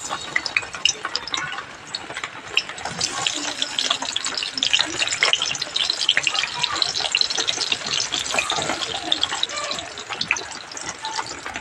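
Eggplant slices frying in hot oil, a dense steady sizzle and crackle that runs continuously and fairly loud throughout.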